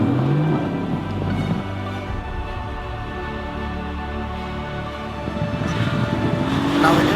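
Mercedes-AMG GT S in sport mode, engine revving loud and close, a sustained throaty roar that swells near the start and again toward the end.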